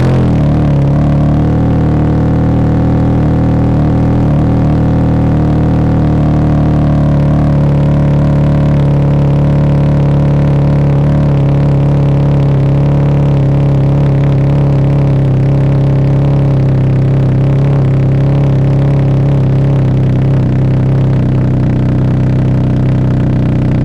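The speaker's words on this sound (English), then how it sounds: "we're gonna do the same test with the Cyber Turbo exhaust" A Can-Am Ryker 900 three-wheel motorcycle with a Cyber Turbo aftermarket exhaust idles and revs continuously with a deep, throaty exhaust note, loud and close throughout with no talking.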